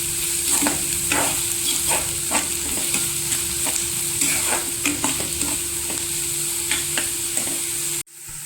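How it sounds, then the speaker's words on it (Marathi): Onions stirred with salt in a frying pan, a steady close sizzle broken by repeated scraping strokes of a spoon roughly every half second, continuing alone until an abrupt cut near the end. "त्याच्यामध्ये आपण पहिल्यांदा मीठ टाकायचं आणि व्यवस्थित ढवळून घ्यायचं"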